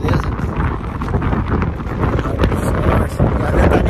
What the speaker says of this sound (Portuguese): Nossa, ventania.